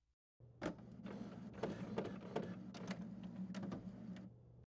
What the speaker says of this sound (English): press the Start Copy Color button to scan the alignment page